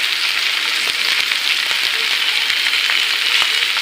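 Chopped okra and onions frying in hot oil, a dense close sizzle with bright crackling and occasional stirring clicks, steady and unbroken.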